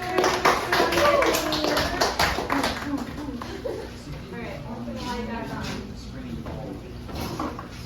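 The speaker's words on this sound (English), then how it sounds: "everyone give a round of applause" A burst of clapping from a group fades after a few seconds, leaving room chatter and shuffling behind.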